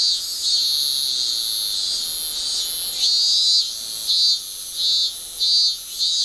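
Cicadas in a Japanese summer buzz loudly and continuously, the shrill drone pulsing in a regular rhythm of swells about every half second, close by and with no voices.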